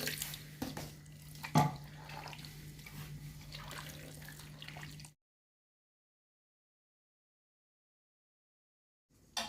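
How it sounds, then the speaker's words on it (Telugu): Water is poured into a bowl of dosa batter with a little semolina, giving a steady, close trickle with one sharp knock for about five seconds before the sound cuts to silence. "ఇప్పుడు మనం కొన్ని దోశ సరిపెట్టేట్టుగా వాటర్ వేసేసుకుందాం."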